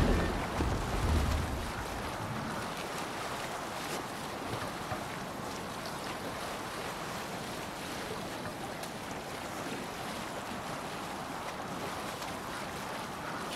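A sailing ship moving over the sea in the video game Assassin's Creed Valhalla, heard as a steady wash of waves, wind and hull noise with no voices.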